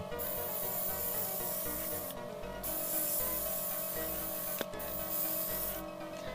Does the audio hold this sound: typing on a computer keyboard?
no